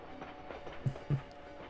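Train running in the Valiant Hearts video game at a Paris train depot, a steady low rumble with faint rhythmic clatter and two soft thuds near the end, beneath a quiet music bed.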